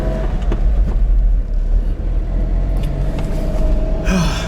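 A Honda Beat pulls away, its small engine droning and rumbling loudly from inside the cabin, revs rising and dipping through gear changes, with a short burst of hiss near the end.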